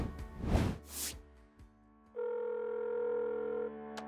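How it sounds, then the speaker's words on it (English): A steady telephone tone sounds for about a second and a half while a call to a hospital's international healthcare centre is placed, preceded by brief handling noises and a short fragment of voice. "let me try calling them right now."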